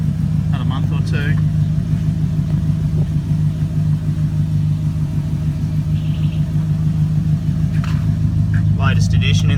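A Volvo 240 fitted with a swapped Holden V8 idles with a steady, loud low rumble throughout, engine running smoothly close by, with someone talking over it.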